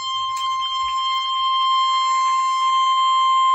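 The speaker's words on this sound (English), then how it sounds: "This 1050 hertz tone is loud." A 1050 Hz weather radio alert tone, broadcast ahead of a tornado warning, holds as a loud, steady, unbroken pure beep for several seconds with faint background hiss and no talking.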